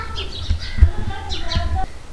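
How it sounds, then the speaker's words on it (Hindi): Birds chirp outdoors in short bursts of twittering calls at moderate distance, mixed with low background rumble and faint knocks. "ऊपर से चिड़ियों की आवाज़ भी बहुत प्यारी लग रही है।"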